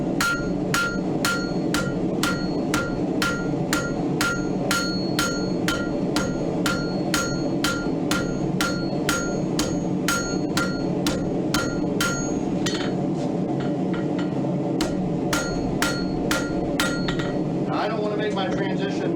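A blacksmith forging a diamond finial hammers hot iron on the edge of an anvil, delivering a long, steady series of sharp, ringing blows at an even rhythm, close and loud.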